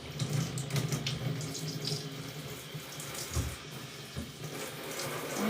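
Tap water runs steadily into a sink as glass pieces are rinsed in a fused glass studio, a continuous close splashing hiss with small irregular spatters and no talk.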